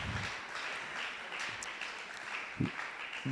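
Audience applause at a tennis player development workshop, a soft, steady wash of many hands clapping heard from some distance, with a faint low thump near the end.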